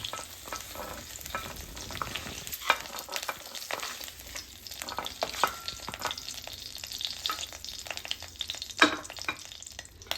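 Okra sautés in a pan with a continuous crackling sizzle, broken by frequent scraping and stirring strokes of a spatula, some sharper clicks standing out near the end; no one speaks.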